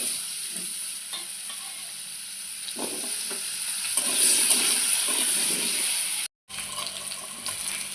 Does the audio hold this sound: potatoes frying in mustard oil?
yes